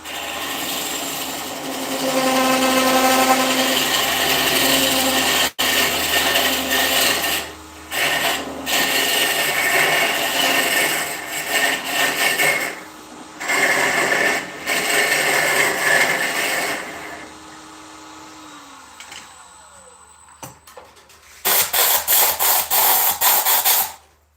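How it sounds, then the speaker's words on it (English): An air compressor drones loudly and steadily in a woodturning shop. The sound dips briefly several times, then cuts out near the end, leaving a few short bursts of tool noise. "sorry about the compressor"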